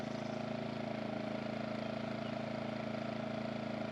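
An IGEN2800DFC inverter generator sitting on grass runs at low idle, giving a steady, even drone with a faint hum that holds unchanged from start to finish, heard from some distance with no voices.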